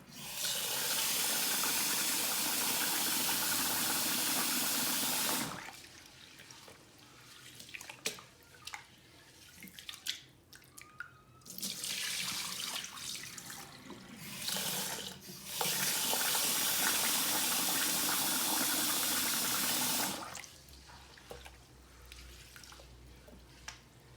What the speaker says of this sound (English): If the water is still cloudy, just keep on washing it.